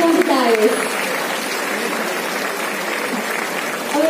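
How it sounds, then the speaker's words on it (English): Audience applause at a conference inauguration programme: broad, steady clapping that holds at an even level for several seconds, with faint voices audible near the start and end. "please maintain a huge round of applause"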